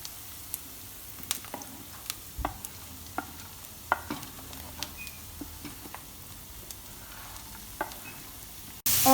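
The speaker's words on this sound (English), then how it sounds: "Let's cook them until the raw smell of the onions are gone." Onions cook in a pan until transparent, giving a soft, steady sizzle broken by scattered stirring clicks and scrapes of a utensil against the pan. One louder knock comes at the very end.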